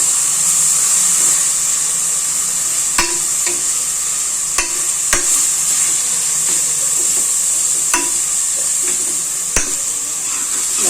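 Onion-masala gravy with garam masala and turmeric sautéing in a pan gives a steady close sizzle and hiss throughout, broken by several sharp spoon clicks as it is stirred.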